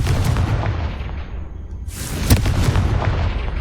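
A Confringo spell blast in Hogwarts Legacy bursts out as a loud boom with a sharp crack, rising after a quieter stretch of low rumbling game ambience, with a few smaller pops following.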